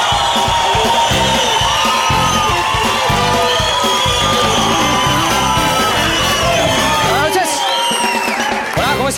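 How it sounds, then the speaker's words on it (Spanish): A live comedy-show audience roars with loud cheering, yelling and whoops to welcome a comedian onstage, a dense, continuous crowd din that holds for the full stretch with only a brief dip near the end. "Aquí lo recibimos con un fuerte aplauso."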